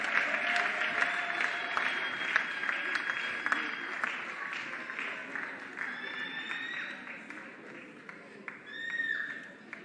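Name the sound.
audience applause for finalists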